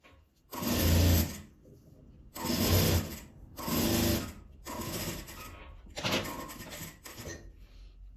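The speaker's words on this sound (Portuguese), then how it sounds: "E vou passar a costura, pregando ele aqui." A sewing machine stitches bias binding onto plastic sheet for a fabric-scrap organizer, five or six loud whirring bursts of a second or so each, separated by short pauses.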